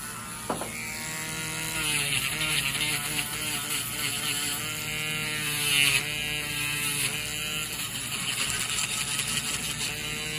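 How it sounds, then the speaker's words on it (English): Dremel rotary tool grinding down a thick, fungal toenail, a steady high-pitched motor whine with a grinding edge, shifting slightly in pitch as pressure changes, close and moderately quiet throughout. "Now we'll get the Dremel and then get you cleaned up."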